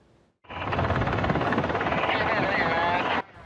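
A rescue helicopter flying on a call-out in Taiwan's mountains gives a loud, steady rotor and engine roar that starts abruptly, holds for about three seconds, then cuts off.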